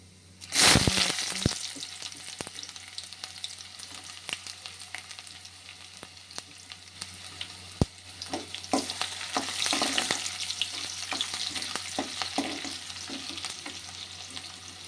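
Tempering seeds and chopped onion fry in hot oil in a kadai for an okra stir-fry, opening with a loud spattering burst, then a steady crackling sizzle with scattered pops and stirring scrapes, close by and with no talk.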